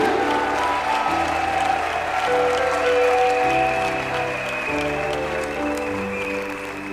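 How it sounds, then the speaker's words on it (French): A church congregation at a New Year's Day worship service applauds steadily and loudly for several seconds, a dense wash of clapping with music playing underneath. "acclamez très fort pour Jésus."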